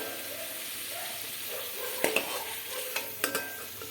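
Fried potatoes being stirred and lifted out of hot oil, a steady frying sizzle with a few sharp utensil scrapes and knocks in the latter half.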